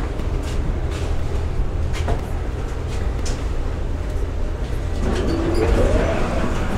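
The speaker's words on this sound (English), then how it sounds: "So here's our tram." City tram in Serbia rolling along, a loud steady low rumble with occasional rattles and clanks, building toward the end.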